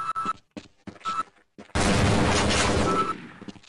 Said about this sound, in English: Oh, okay, good grenades.